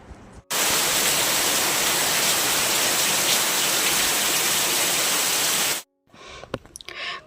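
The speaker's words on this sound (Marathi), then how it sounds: "तर छान असा बघा इथे पाऊस आता सुरू झालेला आहे" Rain begins falling at a rural family home, a steady, dense hiss that holds evenly for about five seconds, then cuts off abruptly, leaving faint scattered noises.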